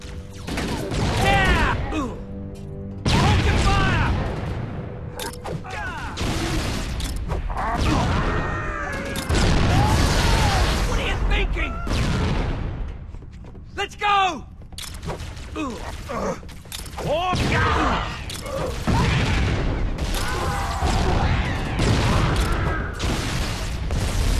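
Covering gunfire from Marines during a battle aboard the ship Pillar of Autumn in Halo: Combat Evolved Anniversary, as sustained dense bursts and booms mixed with mechanical clanks and voices throughout.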